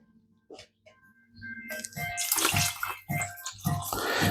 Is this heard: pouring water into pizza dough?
yes